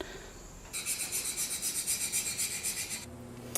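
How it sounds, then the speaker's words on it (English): Steel chisel back rubbed back and forth across a sharpening stone, a rasping scrape in a steady rhythm of about a dozen quick strokes, close and clear, with a brief quiet pause before and after. "we're going to go back to moving it across the stone until we take all of those scratches out"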